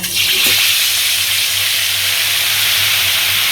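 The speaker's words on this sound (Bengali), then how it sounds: "গরম হয়ে গেছে আলু ভাজি ওই তেলের মধ্যে দিয়ে দিব" Potatoes dropped into hot oil, a loud continuous hissing sizzle close by that holds steady throughout.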